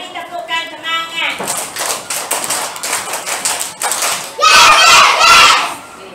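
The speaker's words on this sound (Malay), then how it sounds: "Okey, beri tepukan semangat." Schoolchildren in a classroom clap together in a quick rhythmic burst of many hands, loud and close, following a teacher's voice at the start.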